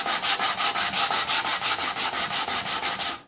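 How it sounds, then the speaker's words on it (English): Steady rhythmic sanding on a stencilled wooden surface, about five strokes per second, close and fairly loud, with no voices. "do a little sanding, make it look a little rustic."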